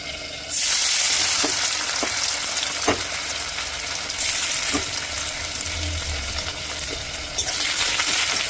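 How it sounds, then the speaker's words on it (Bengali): Potatoes fry and sizzle in a pan with a steady bright hiss, broken by scraping stirs and a few light knocks of the utensil against the pan, without speech. "এভাবে করে অল্প অল্প করে ভেজে তুলে নিতে হবে।"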